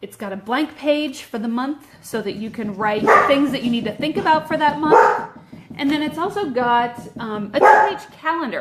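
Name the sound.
dog barking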